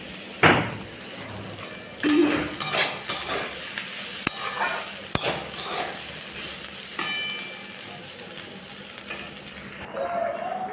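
Jackfruit curry cooking in a home kitchen, with a spoon stirring and scraping the pan over a steady sizzle, punctuated by several sharp clinks of utensils against the pot.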